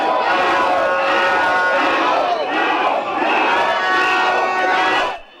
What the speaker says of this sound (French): une foule compacte, prête à tout pour exploser de joie